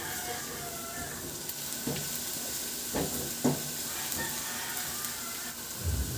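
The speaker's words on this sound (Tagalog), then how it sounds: "Magpainit na ako ng mantika at igisa ko na yung bawang." Garlic sautéing in hot cooking oil, a steady sizzle with a few soft stirring knocks of a utensil against the pan, close and moderately loud.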